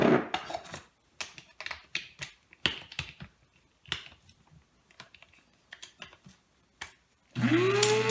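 Blender grinding juniper berries and spices into a powder, heard as a burst of loud steady whirring at the very end, after a series of sharp taps and clicks.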